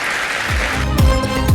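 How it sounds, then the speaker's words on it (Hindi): Audience in a conference hall applauds steadily, a dense wash of clapping with a few sharp thumps near the end. "वज़ीर आज़म के गजा के हक में आवाज़ उठाने पर हॉल तालियों से गूंज उठा।"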